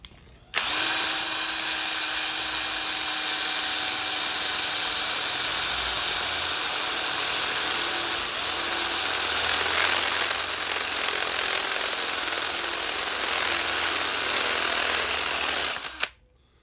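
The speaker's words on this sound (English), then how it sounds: "It's going real slow and careful, so I don't like jam my drill bit into the vise." A power drill runs continuously and loudly for about fifteen seconds, a steady high whine with grinding as the bit slowly cuts holes through metal held in a vise.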